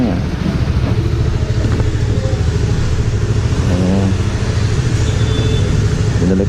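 A motorcycle engine, being checked for a reported fault, runs steadily at close range in a continuous mid-pitched drone with slight revving fluctuations.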